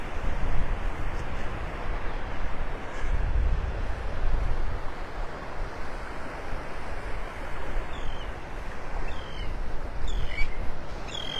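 Seabirds screech now and then over steady surf and wind noise on a beach in North Naples, Florida, the short calls faint and scattered through the wash of waves.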